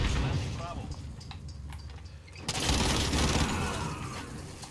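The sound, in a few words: rapid gunfire from a new gun in the video game Modern Warfare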